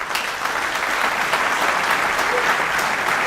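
A debate audience applauds steadily as Minnesota Republican candidates for governor square off. The full, dense clapping is close and continuous throughout.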